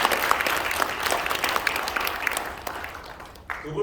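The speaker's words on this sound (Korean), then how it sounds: "드브로이 박사까지, 저는 여러분과 함께 이 선각자들에게 큰 박수를 한번 드리고 싶습니다." Steady applause from a seminar audience, dense clapping that carries on throughout and tapers slightly near the end.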